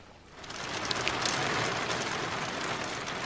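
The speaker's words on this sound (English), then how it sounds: "It's raining Dippin' Dots out here." Rain falls steadily outside a small 13 ft Scamp camper trailer, a dense, even patter that swells in the first second and then holds at a moderate level.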